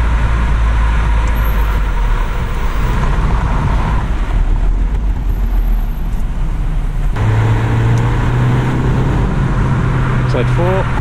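A Mazda MX-5 NC drives through the countryside, its engine a steady low drone that rises in pitch partway through under road and wind noise, with someone talking throughout.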